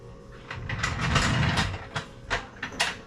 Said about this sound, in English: This old jack's got miles on it.